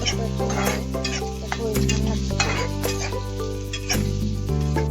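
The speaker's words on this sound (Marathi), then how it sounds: "आपण कांद्याला 1-2-3 मिनिट छान असं फ्राय करून घेणार आहोत." Chopped onions fry in a pan for poha while a spoon stirs them, a steady close sizzle with intermittent scraping and light clinks against the metal, no voices.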